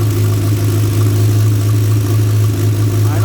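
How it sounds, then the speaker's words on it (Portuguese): An idling VW Voyage engine fitted with a turbocharger, its spinning turbo adding to a loud, steady, close-up drone with a strong low hum and a constant whooshing layer above, no revving. "Olha lá, a turbina tá girando."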